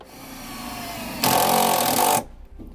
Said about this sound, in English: We'll go back here, and we'll use a self-tapping screw to do this.